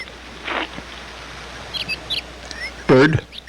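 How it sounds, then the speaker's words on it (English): A single bird lets out a sharp, raspy call at close range near the end, after a few faint chirps earlier over low background hum, with no one talking. "Bird."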